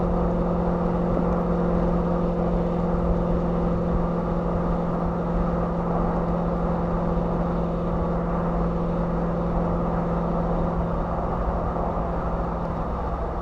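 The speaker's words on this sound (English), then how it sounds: "the exhaust is Corsa exhaust." A car fitted with a Corsa exhaust cruises steadily, its low engine drone holding a constant loud hum throughout with no pauses.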